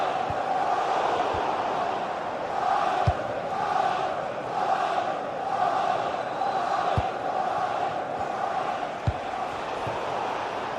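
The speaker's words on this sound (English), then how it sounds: "Well, just listen to the crowd." Stadium crowd in a football video game roars steadily before a corner, with a Barcelona side pressing for an equaliser; a dense, sustained wash of voices with occasional sharp thuds poking through.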